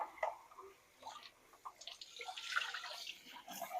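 A bowl with flour residue is rinsed under running water in a sink, giving faint, splashing, irregular water sounds with small clinks, rising slightly toward the end.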